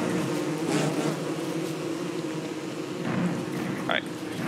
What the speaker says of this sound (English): I'm bringing bees.